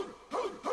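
A dog on a late-1990s TV show gives two short, close yappy barks in quick succession.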